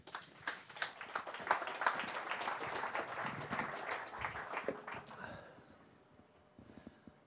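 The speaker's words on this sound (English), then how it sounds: "Thank you for the clap." An audience at a property conference claps in a brief burst of scattered, quiet applause with distinct individual claps, thinning out and fading after a few seconds.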